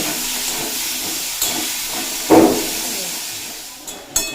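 Potatoes with onions fry in a pan over low to medium flame, giving a steady close hiss broken by a brief louder sizzle and a couple of sharp clicks.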